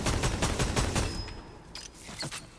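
A rapid run of loud gunshots from a weapon in Vermintide 2, then quieter mechanical clicks and clacks of a quick reload trailing off afterward.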